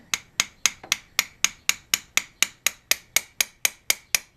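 A valve seal is tapped down onto a Honda Integra GSR valve with a 10 mm deep socket and extension: sixteen sharp, evenly spaced knocks, close and distinct, with no voices.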